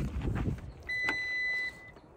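A car locking with a single sustained electronic beep after a brief rustle, heard close by at a trailhead in the San Gorgonio area, with quiet outdoor background.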